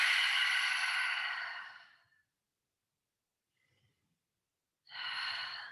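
A long open-mouth exhale during a breathing exercise, one breathy rush of air close to the ear, then silence, then another breath beginning.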